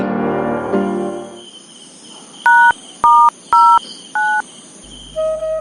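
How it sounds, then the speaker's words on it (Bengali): A phone handset gives a series of four short, evenly spaced keypad dialing beeps, loud and close, after a brief fading musical tone and over a faint nighttime insect chirr. "রাতের বেলা তারে আমি ফোন দেই"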